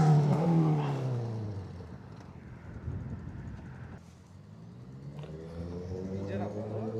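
A Honda CBR650R motorcycle with an Akrapovic full exhaust system, its engine revving and rising in pitch at the start, easing off, then climbing again, heard under people talking nearby.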